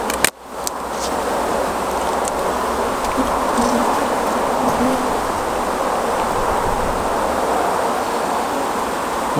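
Honey bees working the frames of an open hive super, a steady, dense buzzing hum that fills the whole stretch after a brief knock at the start, close and even throughout.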